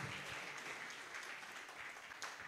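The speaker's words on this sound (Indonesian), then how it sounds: "Kita berikan tepuk tangan untuk Pendeta Dinar" Audience applause at a church seminar, a steady burst of clapping from a crowd that holds at even loudness for a couple of seconds with no voices over it.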